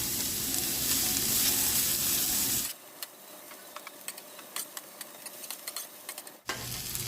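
Onions frying in a pan make a loud, steady broadband sizzle that cuts out abruptly, leaving scattered soft clicks and taps, then the sizzle returns at the end.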